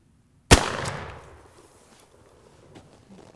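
A single loud shotgun blast fired at a turkey target at 50 yards outdoors, a sharp crack followed by a long rolling echo that fades over a few seconds.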